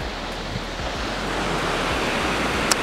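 Ocean surf rolls onto a long stretch of beach in front of a hotel in St. Lawrence Gap, Barbados. The wash is a steady, loud, broad hiss that never breaks, with a little wind buffeting the microphone and no voices.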